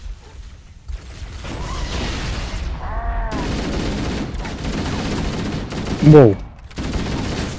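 Gunfire in Halo: Combat Evolved, with repeated shots and bursts running through most of the clip, mixed with other game effects and a loud blast near the end, while players talk and exclaim over it.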